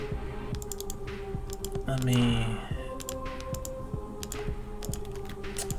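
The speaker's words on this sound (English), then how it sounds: "I'm done doing math mentally, so I'm typing in a calculator right now" Numbers typed on a calculator, a rapid run of close, crisp key clicks in short bursts, with a person speaking briefly over them and a short louder rustle in the middle.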